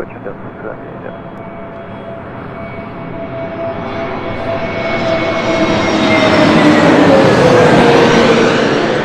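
An American Airlines Airbus A321neo airliner builds from a distant whine to a loud near roar, its sliding engine tones falling as it passes close overhead, alone without talk.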